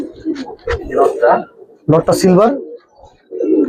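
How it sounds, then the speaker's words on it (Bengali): A male Giribaz pigeon coos in a few soft, rolling bursts close by, mixed in with people talking over and between the calls. "এই যে দেখেন নরটা এখন কি সুন্দর করে ডাকতেছে"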